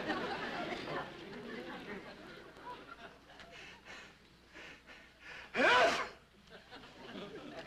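A single sharp sneeze bursts out loudly near the end, set apart from quiet indoor dialogue and soft rustling in a doctor's waiting room.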